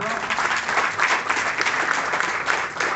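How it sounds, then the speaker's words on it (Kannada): Steady applause from an audience at a Kannada arts recognition program, dense continuous clapping filling the whole stretch at an even, fairly loud level with no voices standing out. "ಇದಕ್ಕೆ ಚಪ್ಪಾಳೆ ಹೊಡಿಬೇಡ್ವಾ?"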